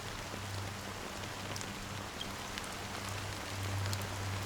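Steady fine drizzle of black rain in the video game Honkai: Star Rail, a soft continuous hiss with a low droning hum beneath, even and unbroken throughout.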